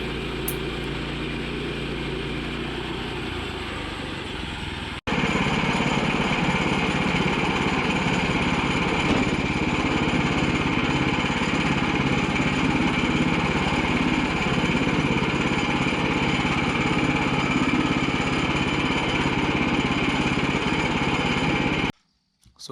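A portable band saw mill cuts through a hickory log, its engine starting lower and then jumping to a loud, steady roar that drones on for most of the stretch before cutting off abruptly.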